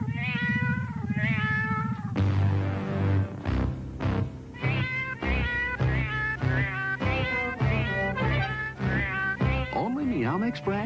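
Cat meows are strung into a bouncy, tuneful jingle for a Meow Mix cat food commercial. The repeated meows ride over music, loud and continuous, without pause.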